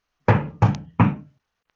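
Three firm knocks on a wooden door, evenly spaced and close, each with a short resonant ring, alone in silence.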